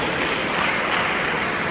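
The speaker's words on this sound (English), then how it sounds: "Please, a round of applause for yourselves." Audience applause at a youth empowerment programme event, a brief dense wash of clapping from a crowd, steady throughout with no talk over it.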